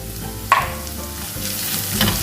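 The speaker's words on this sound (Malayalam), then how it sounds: "ഒന്ന് വഴറ്റിയെടുക്കാം പൊടികളുടെ പച്ചമണം മാറിയിട്ടുണ്ട്" Onions sizzle in a pan with coriander and turmeric powder while being sautéed for fish molly, a steady close frying hiss with a stirring scrape, and no voices.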